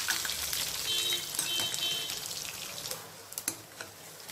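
Dried red chillies and crushed unpeeled garlic crackle while frying in a tempering for tomato dal, a steady hiss of sizzling oil with scattered sharp pops growing more distinct toward the end, close and moderately loud, with no talking.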